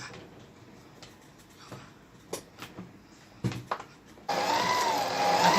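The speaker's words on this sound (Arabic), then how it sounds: "عندي زبده هنا هضربها الاول في العجان" A stand mixer starts beating butter, a steady loud whir rising after a few seconds of quiet kitchen clatter and taps.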